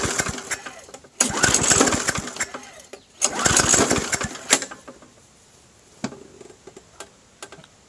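A small lawn mower engine, freshly repaired, cranks in two loud bursts of sputtering, rattling attempts that fail to catch, followed by quieter clicks and ticks, with no one talking.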